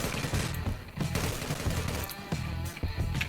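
Gunfire from an online shooter video game crackles in quick bursts of shots, fairly loud and close, with short gaps between volleys and no talk over it.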